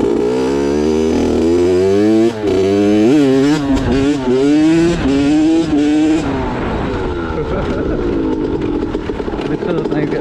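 A Kawasaki KX65 two-stroke pit bike engine revs loud and close, its pitch climbing and falling through rapid throttle blips and gear changes, buzzing steadily throughout.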